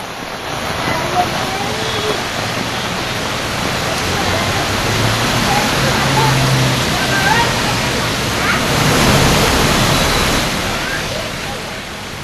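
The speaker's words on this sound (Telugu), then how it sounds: "జోరు వాన పడుతుంది అక్కడ గంట నుంచి ఎడతెరిపి లేని వాన పడుతుంది" Torrential rain pours over Hyderabad during a thunderstorm, a loud, unbroken roaring wash of falling water that swells gently and stays steady throughout.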